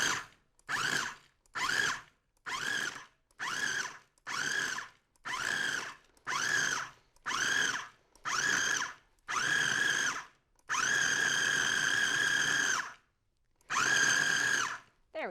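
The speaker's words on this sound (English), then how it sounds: "we're just going to pulse this in the processor until it's nice and chopped" A food processor pulses repeatedly through granola bar ingredients with big dried apricots, about ten short, loud motor bursts with brief gaps, then one longer run and a final pulse.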